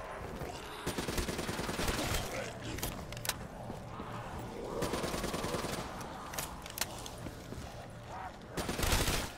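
Gunfire against zombies in Black Ops 3's Kino der Toten zombies mode, a dense run of rapid game gunshots and bursts with mechanical clatter that sits loud and steady across the whole stretch.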